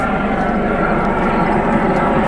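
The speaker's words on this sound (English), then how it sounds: "no, it's not a Black Hawk, it's a rescue helicopter" A rescue helicopter flying overhead makes a constant, heavy rumbling drone that stays loud and steady throughout, with a faint hint of nearby voices underneath.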